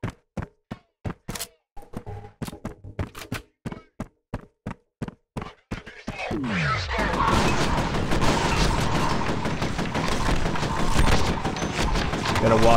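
Gunfire from the video game FEAR: a string of sharp separate shots for about six seconds, then a dense, loud continuous burst of automatic fire with chaotic impacts.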